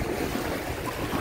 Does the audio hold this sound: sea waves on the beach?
yes